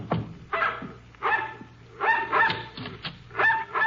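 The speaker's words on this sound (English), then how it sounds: "the dog barking at our heels" Dog barking repeatedly in short bursts near a porch, loud and close, with a steady low hum underneath and no talk.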